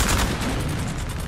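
Booming cannon fire from artillery in the video game Napoleon Total War, a dense rolling barrage of overlapping blasts that fills the short stretch without pause.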